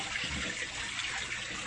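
Water rushes steadily from a 5,000 litre-per-hour pump up through a homemade multi-branch manifold in an aquaponics system, a constant soft wash of flow with no talk.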